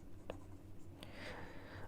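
Pen writing on paper while working through an indefinite integral, x times sin 2x, with faint scratchy strokes and a couple of brief taps over a low steady hum.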